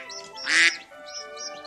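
A single loud, nasal duck quack bursts out near the middle, set against a soft music bed in a children's puppet story.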